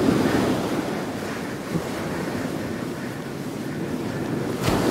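Waves surging and breaking on a winter shingle beach at Aldborough during cod fishing, a steady roar of surf with gusting wind noise across the microphone throughout.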